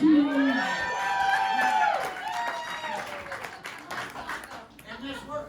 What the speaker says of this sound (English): You, sir, deserve a round of applause.